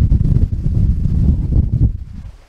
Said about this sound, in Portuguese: O barulho do vento.